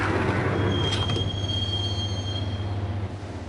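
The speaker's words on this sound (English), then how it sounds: "the train doors had already shut behind me, and I was in for the ride" A subway train in the video game Max Payne rides along with a steady low rumble and a thin, sustained wheel squeal, with brief rattles near the start.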